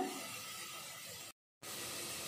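Ingredients sizzling in a pan while frying for paneer pulao, a faint, steady hiss that continues throughout, broken by a brief silent gap before the sizzle resumes.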